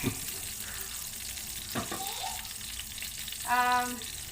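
Ghee heating in a pan with whole spices, cinnamon stick, star anise, bay leaves, cardamom and cloves, gives a soft, steady sizzle with a few clinks of a utensil and a brief tonal squeak near the end, faint and fairly close.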